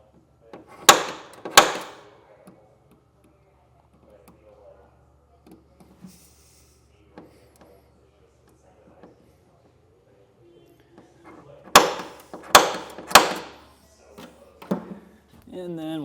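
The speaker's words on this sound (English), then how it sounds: "I'm going to hit those one more time with my center punch." A steel center punch hammered into the textured steel frame of a 2017 Toyota Tundra during a fifth wheel hitch install, a few sharp metallic strikes in two bursts with quiet gaps between.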